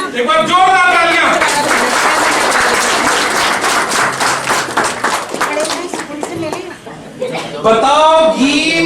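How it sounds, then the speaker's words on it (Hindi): Audience at an Uttarakhand Milan Samaroha community gathering in Gurgaon breaks into loud, sustained applause with dense clapping, while a voice speaks at the start and end. "कमाल कर दिया एक बार जोरदार तालियां"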